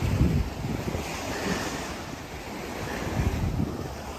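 Surf rolls and washes steadily onto South Jomtien Beach in Thailand, a continuous close wash of breaking waves mixed with gusty wind buffeting the microphone, with no voices.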